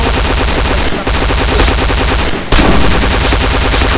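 Loud, rapid machine-gun fire from bots in the shooter game Point Blank comes in sustained bursts with two brief pauses, close and dominant, with no voices.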